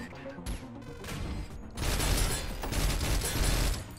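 A DMR security turret deploys with mechanical clanks in the sci-fi shooter Synthetik: Legion Rising, then bursts of rapid gunfire follow, loud and dense, with a voice briefly audible.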